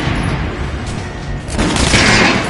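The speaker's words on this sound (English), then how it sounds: "Try shooting for the center of the regular dummy's chest." Dense, booming gunfire rings out at a training dummy in Metro: Last Light, loud overlapping shots and reverberant blasts merging into a continuous roar that swells near the end.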